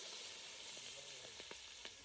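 Garlic sizzles steadily in hot oil in a pan while a Jamaican family cooks brown stewed chicken for an Easter reunion, a continuous bright hiss with a few small pops near the end.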